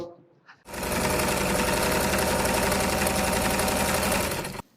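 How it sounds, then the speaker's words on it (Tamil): Electric sewing machine stitching a blouse front piece, a loud rapid mechanical whir that starts abruptly and runs steadily for about four seconds before stopping, close up and alone. "இந்த ஃப்ரண்ட் பீஸை உங்களுக்கு நான் தச்சு காமிக்க போகிறேன்"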